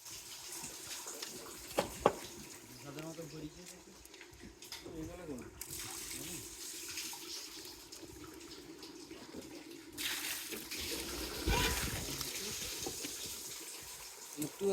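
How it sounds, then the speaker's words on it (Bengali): Sea water splashing and running as a fishing trawler's deck is washed down at sea in the Bay of Bengal, a steady wash of water with bursts of louder gushing and a few knocks. "এখন ট্রলারের সবাই মিলে সাগরের পানি দিয়ে ট্রলারটা ধুয়ে নেবে"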